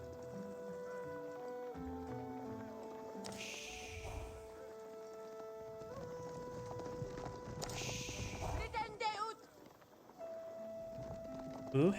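Horse hooves clop steadily across the field in Age of Empires 4, a rapid, mid-level patter running under game music and unit effects, with commentary speech faintly present alongside.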